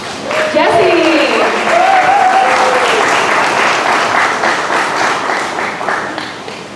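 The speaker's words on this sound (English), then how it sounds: "how about a big round of applause for our gorgeous red-tailed hawk, Jessie" Sustained audience applause rises and fills the air at a Dollywood birds of prey show, greeting a red-tailed hawk, with a voice briefly heard over the clapping early on before it fades slightly toward the end.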